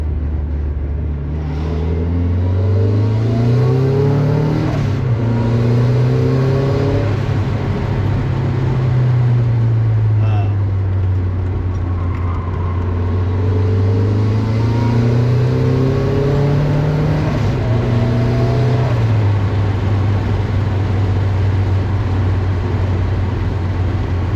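A turbocharged 1997 Mazda Miata accelerates hard through the gears, the engine note climbing and dropping with each shift under a steady turbo whir, loud and close from inside the car.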